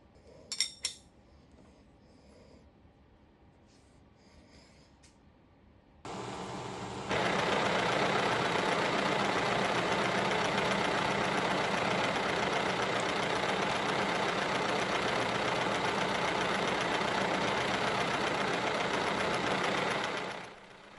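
A universal milling machine with a 3/4 inch two-flute end mill starts up and runs, a steady loud mechanical whir with a faint metallic ring. Light clinks come first, then a sudden onset and a sustained drone until it stops.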